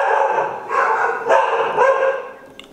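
House dogs bark in defence of their home, letting out several loud, overlapping barks in quick succession. The barking is close and dominates the scene.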